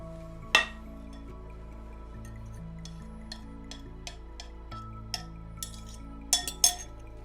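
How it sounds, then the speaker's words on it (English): Eggs, flour, treacle and milk are added to a butter mix in a bowl, with a few sharp clinks of spoon or utensil against the bowl over a quiet, steady background hum. "I'm now going to add eggs, flour, treacle with a little milk to my butter mix."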